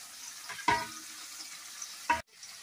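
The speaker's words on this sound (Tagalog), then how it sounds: "habang piniprito natin yung ating tofu" Steady oily sizzle of tofu frying in a pan, with two sharp louder crackles as pieces shift; no voices.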